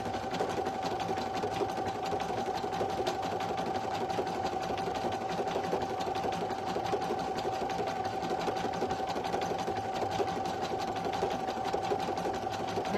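A single-needle embroidery machine stitching out a design at low speed, a steady, continuous mechanical whir with a fast, even needle rhythm, close and unbroken throughout.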